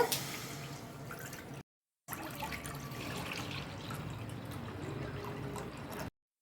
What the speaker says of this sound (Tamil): நம்ம எடுத்து வச்சுருக்க 1 லிட்டர் பால் அதில் சேர்த்துடலாங்க.